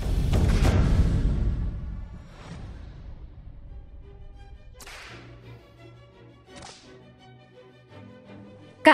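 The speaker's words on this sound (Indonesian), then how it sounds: "Kak Mi, ada yang salah dengan cambuk itu" Whip cracks in a period martial-arts drama scene: a heavy opening lash, then several sharp separate cracks spaced a couple of seconds apart, ending with one loud snap, over a low rumbling backdrop.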